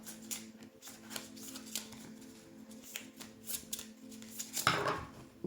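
Tarot cards are handled and drawn from a deck with repeated papery shuffles, flicks and slides, close and continuous, ending in a louder rustle near the end.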